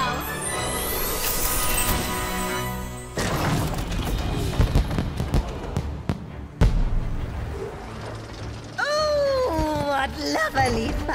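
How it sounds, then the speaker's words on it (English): Fireworks burst in the video game Puppeteer after a giant enemy crab is defeated, loud booms and crackles layered over playful game music, with a sparkly whistling flourish near the end. "What lovely fireworks! Each a flower of sparks growing in the garden of our hearts."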